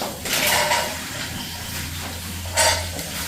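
Onion and ginger frying with coconut pieces in a pan for a jackfruit and pork dish make a loud, steady hiss, swelling into brief sizzling bursts near the start and again near the end.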